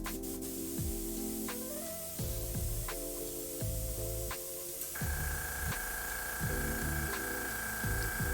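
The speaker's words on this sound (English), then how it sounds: "Airbrush compressor go brrr." An airbrush driven by a compressor sprays paint onto a miniature. A constant loud hissing spray sits over the rhythmic low chugging thumps of the compressor.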